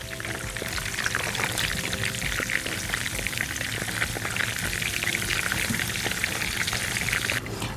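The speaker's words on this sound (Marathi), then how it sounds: "दुसऱ्या साईडने सुद्धा आम्ही हे छान तळून घेतो" Stuffed eggplants fry in a pan with a steady, loud, dense sizzle that holds evenly from start to finish, with no voices.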